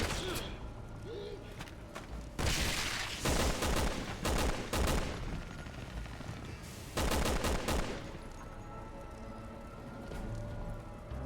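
Gunfire in the Resident Evil 6 video game, several loud bursts of rapid shots separated by quieter stretches of game ambience.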